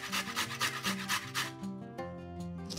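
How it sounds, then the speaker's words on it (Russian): A carrot is rubbed against a coarse grater in steady back-and-forth strokes, close and quiet, the rasping easing off after about a second and a half. "Одну морковь трем на крупной терке."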